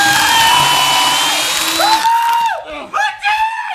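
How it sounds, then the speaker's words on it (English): A cartoonish dental drill whines loudly and steadily, then drops away while a voice cries out in protest during a comedic puppet dentist scene. "if you had any cavities, I'd have to drill into all your teeth"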